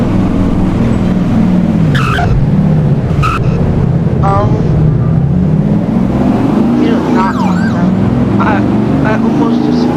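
Video game truck driving fast on a roleplay server, engine drone with tire skids and squeals as it nearly flips, loud and continuous under intermittent talk.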